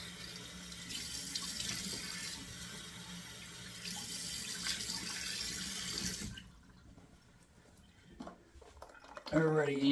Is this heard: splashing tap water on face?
yes